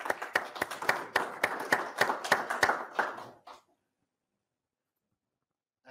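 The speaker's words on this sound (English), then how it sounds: "A big applause, yes." Applause for contest winners at a KNX RF expert session: a short burst of audience clapping, dense and fairly close, lasting about three and a half seconds before cutting off into silence.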